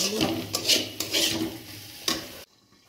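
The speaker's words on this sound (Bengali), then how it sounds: "এই ভাজা এখনো পর্যন্ত ভেজেই যাচ্ছে" Fried food sizzles in a pan while it is stirred, with scraping, hissing strokes close by; the sizzle stops abruptly after about two and a half seconds, leaving near silence.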